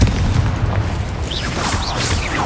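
A Confringo explosion spell, Harry Potter style, bursts in a deep, sustained boom, a loud rumbling blast that fills the moment with faint whistling streaks over it.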